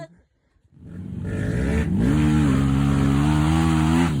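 An enduro dirt bike engine fires up and revs on a hard enduro trail ride, building from quiet into a loud, sustained rising drone close by, with engine pitch climbing and holding steady.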